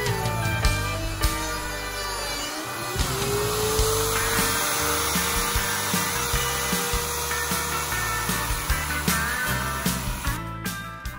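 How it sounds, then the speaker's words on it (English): A router fitted with an 18 mm bit that cuts on its side and bottom bores the center hole of a model turntable pit, whining steadily and loudly throughout with changing load and no talk. "I have purchased an 18 millimeter router bit here that has blades on both the side and the bottom"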